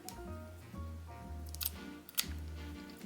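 Scissors snipping the yarn tail of a crochet poncho, a few crisp close cuts over a steady low hum, no voices.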